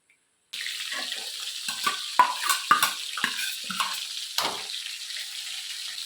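Food sizzles in hot oil, a steady bright hiss broken by scattered pops and a few clinks of a utensil.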